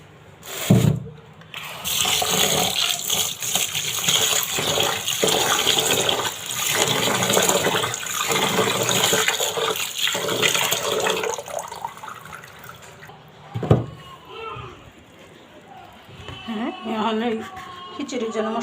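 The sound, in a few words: washing ingredients in water for khichuri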